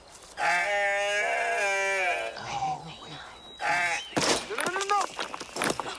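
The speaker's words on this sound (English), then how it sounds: "Hey, baby goat." A baby goat gives a long, wavering bleat up close, followed by a few shorter bleats, while people talk nearby.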